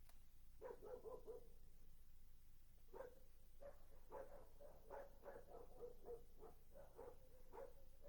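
Several dogs barking in a quick series of short yaps, bursts bunched in two groups, moderately distant over a steady low background hum.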